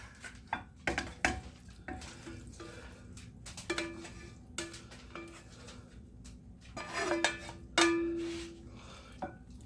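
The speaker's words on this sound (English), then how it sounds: "Put our mix in our pan." Pork pie filling mix of mirepoix and peas being scraped and tipped into a casserole pan, with scattered utensil clinks and scrapes against the dish and a few louder knocks, no voices.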